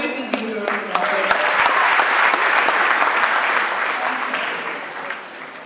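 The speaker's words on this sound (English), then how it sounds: "can we please give him a round of applause?" Loud, sustained applause from a lecture audience greeting a panelist at a university medical students' public lecture, swelling quickly and tapering off slowly over several seconds.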